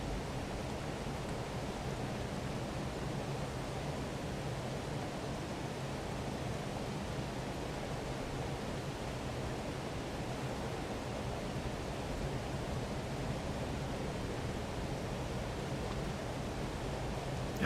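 A distant waterfall in Call of the Wild: The Angler gives off a soft, constant rumbling hiss, faint and unchanging throughout with no other sounds over it.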